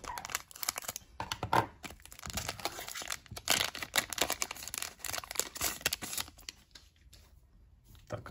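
A foil trading card pack of basketball cards is torn and crinkled open up close, with continuous rustling, crackling and tearing noises for several seconds and no voices.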